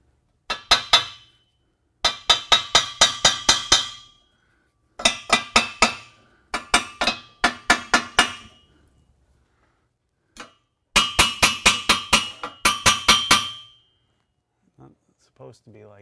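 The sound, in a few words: hammering on car exhaust pipe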